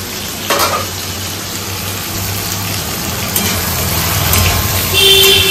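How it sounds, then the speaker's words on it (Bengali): Fish frying in a pan on a home kitchen stove during midday cooking, a steady close sizzle running throughout, with faint clinks and background household noise and no talking. "একদিকে মাছ ভাজা হচ্ছে"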